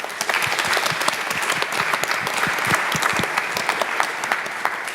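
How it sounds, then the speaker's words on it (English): A conference audience at a deep-tech event claps for a panel discussion, dense, sustained applause from many hands at steady volume with no talking over it. "Maybe a last applause for the whole panel and for this discussion."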